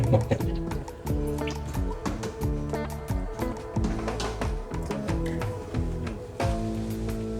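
A salak fruit wine mixture is stirred by hand, giving continuous wet sloshing, gurgling and dripping. The close, busy liquid churning stays at a moderate level throughout.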